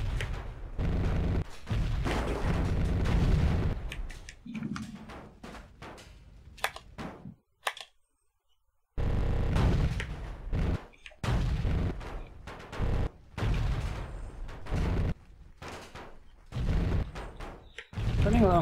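Repeated heavy booms of cannon fire in the video game Comanche Gold, coming in bursts with brief pauses and one near-silent gap midway.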